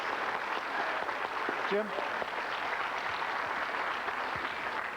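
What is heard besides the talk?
applause for the winner, Nick Varner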